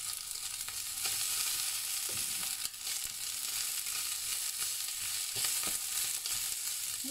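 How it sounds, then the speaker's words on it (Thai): Vegetables stir-fried in a hot pan, a dense continuous sizzle with occasional scraping stirs and soft clinks, close and steady with no talk. "เราก็มาผัดผัดอันนี้เราผัดไม่นานนะคะผัดแค่ให้มันพอก็เรียกว่าพอสลบ"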